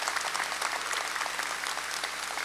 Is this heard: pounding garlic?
no